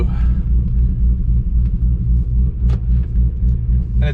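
A cammed Cadillac CTS-V idling after a cold start, a loud, deep, lumpy rumble close by with a steady choppy pulse and a few faint clicks over it.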